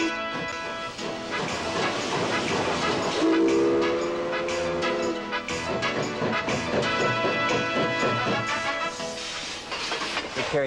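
The 1905 L&N 152 steam locomotive rumbles and clatters along the rails, its horn or whistle sounding a sustained tone partway through over continuous train noise, with no talking.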